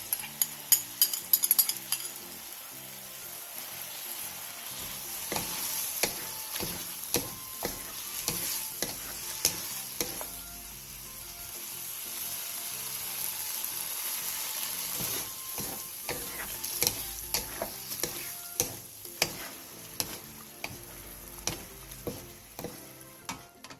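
Fried tofu stir-fried with seasoning sauce in a pan, with a steady sizzle and repeated clicking spatula strokes, sparse at first and then in quick runs.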